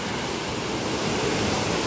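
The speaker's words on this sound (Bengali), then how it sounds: "পানির স্রোত অনেক," Strong water current rushes near Dhuppani waterfall in Rangamati, a loud, close, continuous roar of churning water with no pauses and no voices.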